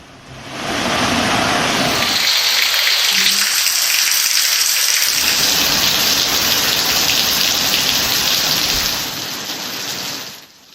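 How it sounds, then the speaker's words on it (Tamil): Heavy wind-driven rain pours down in the Sirkazhi area of Mayiladuthurai district during a cyclone, a dense, loud, continuous hiss that swells in quickly, holds steady and eases slightly near the end. "மயிலாடுதுறை மாவட்டம் சீர்காழி சுற்றுவட்டார பகுதிகளில் பரவலாக மழை பெய்து வருகிறது"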